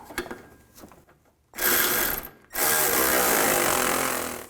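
Ratchet of a socket wrench with an 18mm socket tightening the sway bar link nut on a 2004-08 Nissan Maxima, close and loud: a few soft clicks, then two bursts of fast continuous ratcheting, the second longer.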